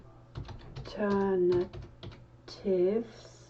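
Someone types a terminal command on a Raspberry Pi computer keyboard, with a short run of soft key clicks. Someone speaks over much of it, his voice louder than the typing.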